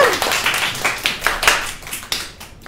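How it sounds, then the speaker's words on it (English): Children in a classroom clap their hands for a classmate during a grammar game, a loose run of sharp, uneven claps that thins out toward the end, close and with no talk over it. "clap your hands for Rukaya"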